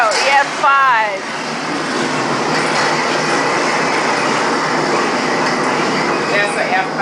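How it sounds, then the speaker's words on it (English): A loud, continuous roar like a freight train rushes close by, steady and broadband, from an EF5 tornado, with voices calling out over it. "That's the sound of a tornado"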